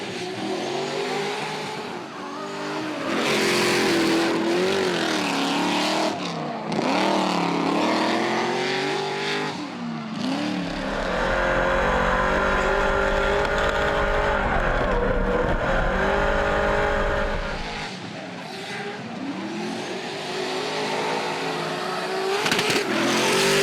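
Hi-Tec Drift All-Stars drift race cars screaming past, with engines revving hard, rising and falling in pitch, and bursts of tire squeal as cars sweep by, loud and close.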